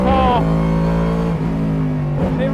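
Ford Mustang GT3 racing car engine, a loud, harmonically rich roar with quick gear-change dips and revs climbing again, close and continuous, with a voice talking over it.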